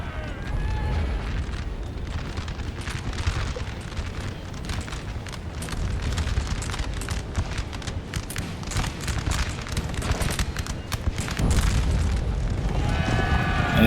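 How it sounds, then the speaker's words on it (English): Napoleon: Total War battle with dense, continuous booming artillery fire and crackling bursts, loud and sustained throughout with heavier rumbling volleys building toward the end. "The artillery almost sandwiched them out of existence."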